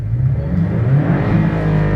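A Porsche Cayman S Style Edition engine pulls hard under acceleration, a loud, steady low growl rising gradually in pitch, heard close up with no talking.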